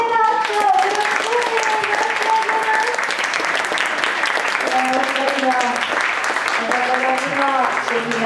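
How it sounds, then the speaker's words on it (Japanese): Audience applause following a piano performance by an 87-year-old pianist, dense steady clapping filling the room throughout, with a voice speaking over it at intervals. "改めて盛大な拍手をお願いします。"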